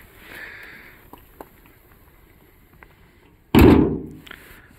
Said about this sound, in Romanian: Sună ușa de poartă.